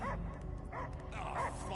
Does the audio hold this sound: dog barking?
yes